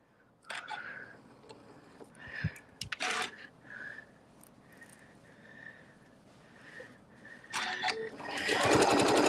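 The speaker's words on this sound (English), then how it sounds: "I'm going to start right here on the edge and edge stitch this all the way around." A sewing machine edge-stitching around a fabric table topper runs in several short bursts of fast mechanical whirring, with brief pauses and clicks between, ending in a longer, louder run.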